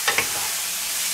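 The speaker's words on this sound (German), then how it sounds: "Jetzt schmor und brutzel ich das fertig." Meat patties (Fleischpflanzerl) sizzle in a pan, a steady hissing fry with a couple of brief clinks of stirring near the start.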